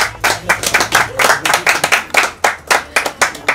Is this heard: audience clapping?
yes